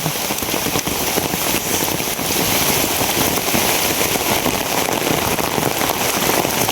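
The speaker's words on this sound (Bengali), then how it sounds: "মেঘ বৃষ্টির দিন" Heavy rain pours down steadily in a dense, unbroken hiss and patter on surfaces, loud and constant from start to finish.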